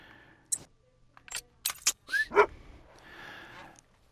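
A hunting dog in the video game Hunter Call of the Wild, with several short sharp barks and yips plus a brief whine, mixed with clicks and a soft rustle and no speech.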